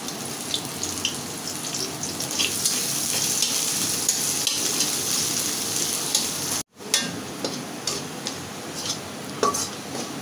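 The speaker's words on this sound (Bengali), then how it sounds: "এবার আমি পেঁয়াজটা ভেজে নেব।" Sliced onion frying in a little oil for a prawn bharta, a steady loud sizzle running throughout with faint spatters and a brief drop near the end.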